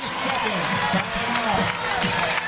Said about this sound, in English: Crowd getting wild off of 2 excellent layups